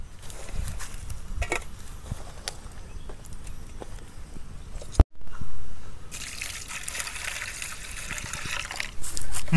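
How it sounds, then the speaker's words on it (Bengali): Prawns being washed in water, with trickling and splashing throughout, a brief break midway, then a louder steady rush of running water. "মাছগুলোকে ধুয়ে নিতে হবে।"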